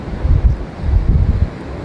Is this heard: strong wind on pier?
yes